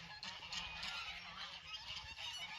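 Geese at a pond honk continuously in a dense overlapping chorus. The calls are faint and somewhat distant, and no voices are heard.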